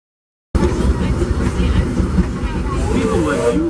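The Disneyland Railroad steam train, pulled by the Ward Kimball #5 locomotive, rumbles loudly and steadily along the rails from close by, heard from on board with a faint squeal near the end.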